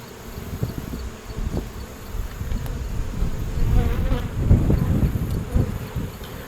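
A healthy honey bee colony buzzes steadily and close up as the hive is opened for inspection, a dense swarm drone with light handling noises beneath it.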